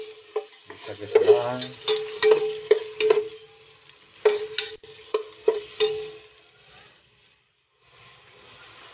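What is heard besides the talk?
onions being added and stirred in a frying pan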